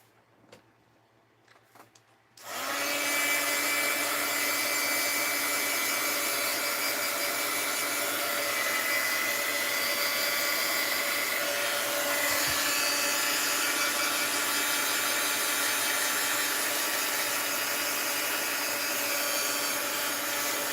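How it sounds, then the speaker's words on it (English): A heat gun heating mixed-media art moons starts abruptly after a few quiet seconds of small handling sounds, then blows a loud, steady, close whooshing whine that continues without a break. "I need to hit these moons with the heat gun. We're going to heat up the moon."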